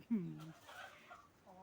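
A silkie chicken gives one short, close cluck at the start, followed by faint softer clucking sounds at low volume.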